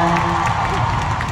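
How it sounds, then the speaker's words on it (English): Concert crowd at a world tour show in Manila, a dense, loud wash of cheering and applause that fills the space without a break. "let's give a big applause."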